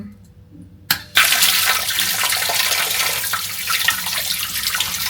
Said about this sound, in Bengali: ইলিশ মাছটা এখন ধুবো ধুয়ে এখন রান্না করব